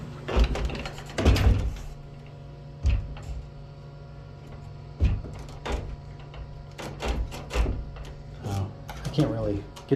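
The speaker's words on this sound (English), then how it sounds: "Go ahead and close both of these doors." Two doors are closed in a small space, producing several sharp knocks and thuds spread across the moment, close by over a low steady hum.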